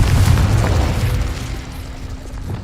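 Confringo blasting-spell explosion in a Harry Potter video game, a loud, close, low rumbling boom that fills the whole moment and slowly fades, with no talk over it.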